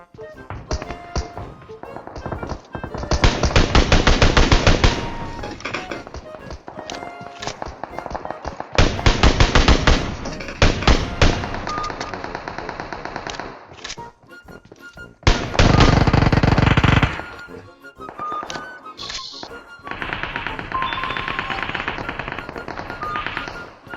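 M4 rifle fire in PUBG at Pochinki rips out in loud, rapid automatic bursts, several long volleys separated by short pauses and single shots.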